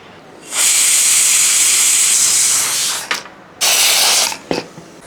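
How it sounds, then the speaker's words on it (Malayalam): A pressure cooker holding vegetable curry vents steam in a loud, close hissing whistle that runs about two and a half seconds, breaks off with a few short sputters, then blasts again for about a second before stopping. "അപ്പോഴത്തേക്ക് ഇത് കുക്കർ വിസിലടിക്കുകയും ചെയ്യും"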